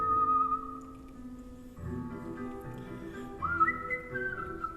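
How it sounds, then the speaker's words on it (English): A person whistles on stage at a gathering in Lewisburg, North Carolina: a sustained, clear melodic tune with sliding pitches, carried alone at moderate volume over a faint low background of accompaniment. "I was whistling on stage in Lewisburg, North Carolina."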